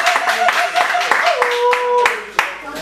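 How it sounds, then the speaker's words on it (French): At a song contest, an audience claps in a few sharp, scattered bursts under a person speaking over them. "Sous vos acclamations, s'il vous plaît"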